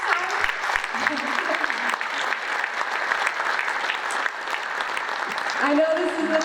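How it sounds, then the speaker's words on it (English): Loud, continuous applause fills a banquet hall at a baseball hot stove dinner, many hands clapping steadily for several seconds, with a voice cutting in near the end. "let's give a round of applause for the women who are here this time"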